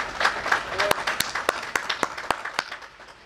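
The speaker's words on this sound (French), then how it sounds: "Et je vous demande de l'applaudir." Audience applause at a technology event in Senegal, a brief burst of clapping with several sharp, prominent claps standing out near the front while a voice speaks over the crowd.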